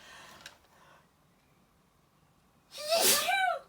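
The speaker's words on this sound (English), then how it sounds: "And I'm going to sneeze." A single loud sneeze bursts out near the end after a quiet breathy build-up.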